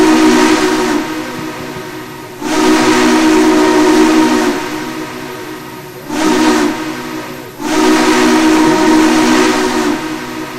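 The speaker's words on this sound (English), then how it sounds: "Everybody ready to hear the whistle?" A train whistle sounds in four long, loud blasts, two sustained and two shorter, each cut by brief gaps, heard close at a railfan outing.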